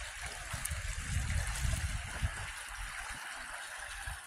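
A stream flows beneath an old pedestrian suspension bridge, its water rushing and trickling in a steady broadband wash with low gurgles, moderately distant and without voices.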